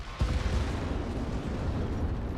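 A Panzer IV tank blows up in a World War II winter battle game, one deep booming blast that gives way to a sustained low rumble.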